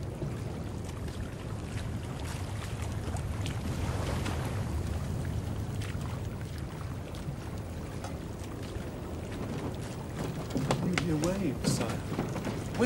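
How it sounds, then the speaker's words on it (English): Waves breaking on an island shore, heard from aboard a sailing ship at sea: a steady low rushing wash with a deep rumble, continuous and moderately faint, with a slight swell near the end. "Waves breaking upon a shore."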